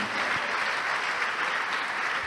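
A church congregation applauds during a service, a dense, steady wash of clapping from many hands filling the room without pause.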